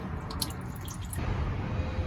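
Coolant drips and trickles from the radiator of a Ford F-series truck being flushed, quick splashy drops over a steady low wash of running liquid, close by and alone.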